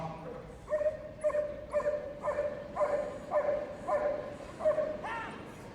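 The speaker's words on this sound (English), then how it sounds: "The dog will be sent against the offender. We'll sit and bark." A police dog barks repeatedly in a steady rhythm at a dog display at Crufts, about ten sharp barks spaced evenly, moderately close with no talking.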